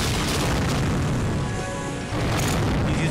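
A loud, booming explosion from the shooter game Unreal fills the whole stretch, a continuous roaring blast with dense rumble that briefly dips before swelling again.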